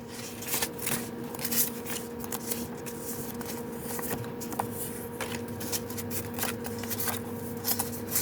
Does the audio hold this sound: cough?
no